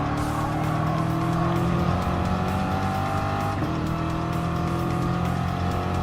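McLaren and BMW M4 race cars roar around Brands Hatch in Gran Turismo Sport, a loud steady engine drone with shifting pitch, a brief tire squeal and passing cars, no talk.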